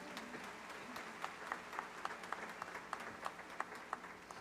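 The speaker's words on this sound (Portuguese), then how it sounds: "Uma salva de palmas para o nosso irmão." A church congregation applauds at a Christmas Mass in Canindé, Ceará, a steady, fairly faint patter of many hands with some sharper claps standing out, heard from a distance.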